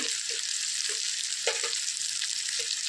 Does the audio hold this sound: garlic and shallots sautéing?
yes